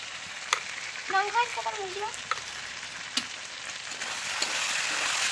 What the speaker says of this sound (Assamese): আৰু অকণমান টাইম ভাজি ল'ম আলুখিনি